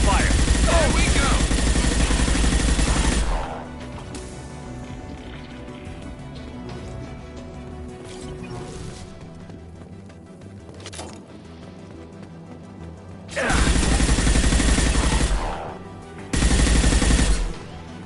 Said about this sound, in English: We've been spotted. Taking fire.